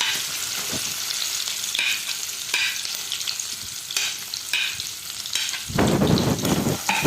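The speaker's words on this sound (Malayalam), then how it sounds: "കുറച്ച് ബട്ടർ ഇട്ട് കൊടുക്കുക ഇതിലേക്ക് സവാള കട്ട് ചെയ്ത് വെച്ചിരുന്ന സവാള ഇട്ട് കൊടുക്കുക" Chopped onion sizzles steadily in butter and coconut oil in a pan, with spoon-stirring scrapes over the hiss and a louder burst of frying near the end.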